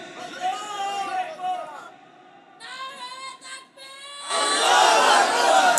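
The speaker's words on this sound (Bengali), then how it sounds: "দাঁড়ায় তাকবীর দেন তো দেখি জোরে।" Crowd at a religious gathering shouting takbir (Allahu Akbar) in unison, a brief leading voice followed by a loud massed response at the end, after a preacher's speech.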